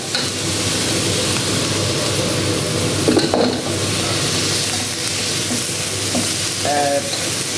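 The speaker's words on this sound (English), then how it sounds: "give it a really good sear." Prawns searing in a hot pan for spaghetti give a loud, steady, close sizzle throughout, with a few brief scrapes and clinks of a utensil against the pan.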